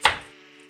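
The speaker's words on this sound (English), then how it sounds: "Just take and cut it this way first. And then turn it and cut it that way." A knife strikes a cutting board once while dicing an onion, a sharp close chop that rings briefly and fades into a low hum.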